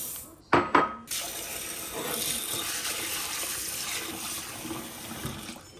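Split peas being rinsed in a bowl of water in a kitchen, with two sharp clinks of a dish or utensil at the start followed by steady close sloshing and swirling water.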